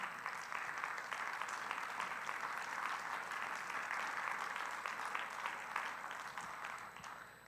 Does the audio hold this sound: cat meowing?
no